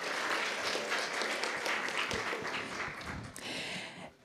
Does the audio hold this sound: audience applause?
yes